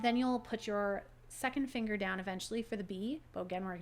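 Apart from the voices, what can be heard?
No distinct noise like a dog, phone or traffic.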